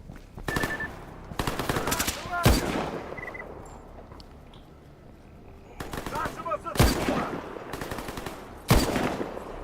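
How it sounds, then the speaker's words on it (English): Bursts of automatic rifle fire and single shots crack out in a STALKER GAMMA firefight against mercenaries, loud clustered volleys separated by quieter gaps with distant background gunfire. "Can't see where they're shooting from."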